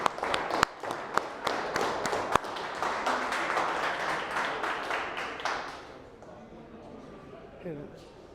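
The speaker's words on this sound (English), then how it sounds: "clap it up for your classmates" In a high school classroom, students clap for their classmates in a brisk patter of applause that fades out after a few seconds, leaving a quiet room.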